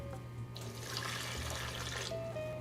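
A cup of chili water is poured for vegan Mexican pozole, a close, steady splashing gush that swells and runs for about two seconds, with no speech.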